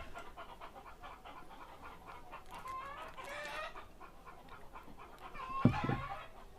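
Chickens clucking in a backyard coop, faint and scattered over steady background noise, with one louder burst of clucks near the end.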